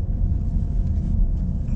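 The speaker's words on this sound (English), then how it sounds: "What's that car, man?" A car rumbles past close by, a loud, steady low roar with wind buffeting that holds for under two seconds with no voices.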